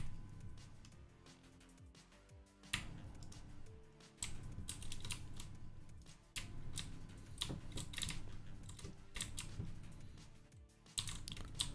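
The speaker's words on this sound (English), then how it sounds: "I spent a bit of extra money on my keyboard. It's a mechanical." Rapid clacking keystrokes come from a mechanical computer keyboard, typed in irregular bursts with some louder key hits, close and steady for the whole stretch without talk.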